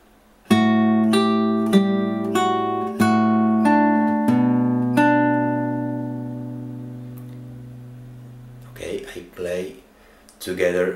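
Fingerpicked acoustic guitar plays a short phrase of plucked notes over a held bass note, ringing out and fading before a voice speaks briefly.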